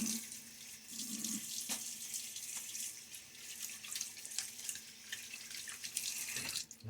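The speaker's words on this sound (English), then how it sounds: "Water on my face." Tap water runs steadily into a sink while someone wets their face before a shave, a constant close hiss with a few small splashes and no voices.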